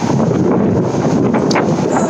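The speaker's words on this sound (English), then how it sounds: "oh, it's windy!" Strong wind buffets the microphone outdoors in a loud, continuous roar and rumble that never lets up.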